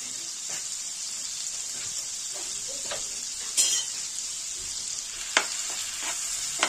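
Prawns fry in a pan for prawn rezala, giving a steady close sizzle throughout with a few sharp stirring clinks and scrapes of the spatula.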